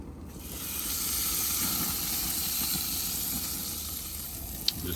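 Meat sears over a hot fire on an Old Country gravity smoker, giving a steady, soft sizzling hiss that runs unbroken throughout, with one brief tap near the end.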